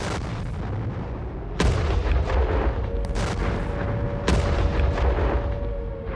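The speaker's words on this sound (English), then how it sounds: "people all over Ukraine woke up to explosions" Heavy booming blasts of artillery and explosions in the war in Ukraine, a couple of sharp loud thuds standing out over a constant rumbling, crackling background of distant fire.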